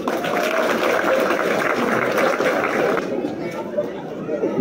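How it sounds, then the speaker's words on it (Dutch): Crowd at a car prize draw in Suriname applauding, a steady dense wash of clapping and chatter that holds loud for several seconds before thinning slightly near the end. "Applaus."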